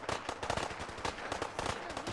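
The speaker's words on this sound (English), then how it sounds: "There's explosions happening." Rapid bursts of explosions from a missile launcher in Fallout 4, fired by Nick Valentine during a settlement battle, cracking in quick irregular succession, loud and close, with no talk over them.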